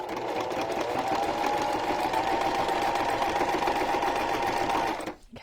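A sewing machine runs steadily at close range while stitching a junk journal cover, a continuous whirring motor with a rapid needle rhythm for about five seconds, then stops abruptly.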